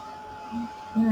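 A hair dryer blows on paper sprayed with color to dry it. It makes a steady, moderate whir with faint, brief tonal shifts as it moves across the sheet.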